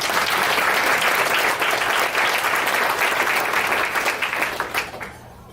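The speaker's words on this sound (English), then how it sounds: "Can we give him a round of applause?" A room full of people applauds the evening's master of ceremonies with dense, steady clapping that holds strong for about five seconds and then quickly dies away.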